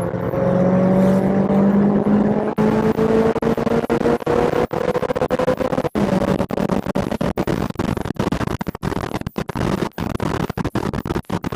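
A 1970 Chevrolet Chevelle Malibu with FiTech fuel injection accelerates hard from about 40 mph, heard from inside the car. The engine roars loud and rising with a pitch that climbs and a brief dip at the shift, under heavy road and wind noise.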